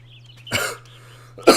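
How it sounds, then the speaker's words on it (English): Two sharp coughs, the second louder, over a low steady electrical hum. "I have a bit of a cough."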